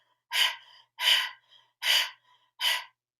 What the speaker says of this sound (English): Exhale through the tongue.